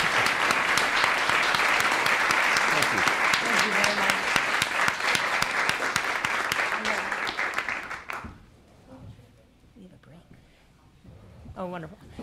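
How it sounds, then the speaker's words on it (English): An audience at a panel discussion on accountability after Citizens United gives the panel sustained, loud applause for about eight seconds, with voices and murmurs under the clapping, which then stops abruptly before a speaker resumes talking. "now we can have thunderous applause for our wonderful panel"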